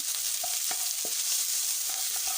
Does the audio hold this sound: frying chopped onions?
yes